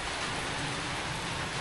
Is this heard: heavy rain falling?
yes